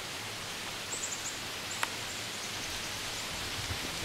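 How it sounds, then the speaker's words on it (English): Steady rain falls on a wet day during a deer hunt, a constant broadband hiss with faint rustles and one brief tick, with no talk. "Well, it's a rainy day"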